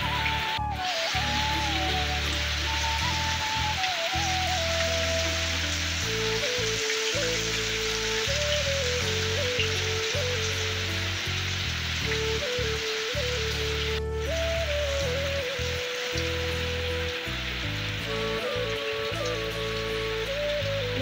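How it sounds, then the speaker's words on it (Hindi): Heavy rain falls steadily and continuously, a dense patter on surfaces outdoors, heard alone with no talk, with faint tonal background sounds drifting underneath. "बहुत ही बारिश हो रहा है"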